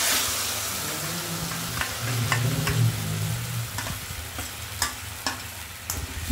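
An egg and sour yogurt mixture for dim bhapa, a steamed egg dish, cooks in a wok after being poured in, giving a steady close sizzle with a few sharp clinks and scrapes of a utensil, no talking.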